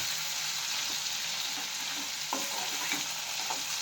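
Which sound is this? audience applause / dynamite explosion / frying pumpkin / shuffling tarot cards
frying pumpkin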